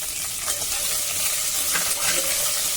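Onions and cashews fry in ghee, giving a steady close sizzle with soft stirring scrapes and occasional spoon clinks, no talking.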